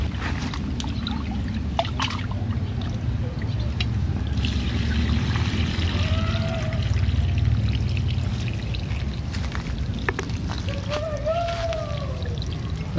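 Rice being washed for nasi liwet, with water continuously pouring, sloshing and trickling through the grains at close range, a steady loud wash of liquid sound throughout.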